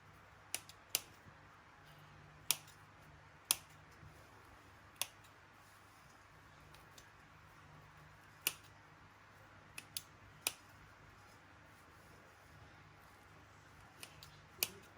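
Scissors cutting butter-soaked kadayif pastry strands for künefe in a kitchen, producing sharp, sparse snips scattered irregularly over a quiet background with a faint low hum, close and crisp with no talk.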